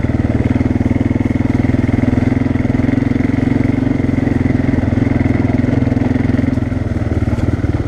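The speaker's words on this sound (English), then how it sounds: "I'm trying to keep the quad in a low gear so you guys can hear me" A quad ATV engine runs loud and steady in low gear on a trail, a close, continuous throaty drone with a slight clatter and no change in pitch.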